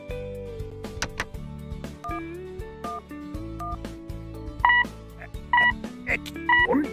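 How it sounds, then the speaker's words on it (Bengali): Telephone keypad tones beep in short bursts over background music as a number is dialed on a phone that fails to connect, with the beeps clustering toward the end. "এবার বৃষ্টিকে ফোন করে সুখবরটা দিতে হবে।"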